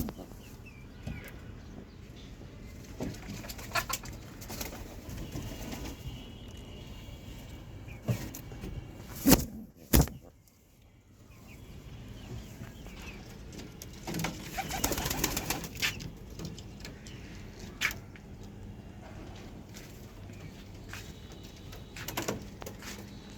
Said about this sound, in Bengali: এই যে এক জোড়া নতুন কবুতর আনছি।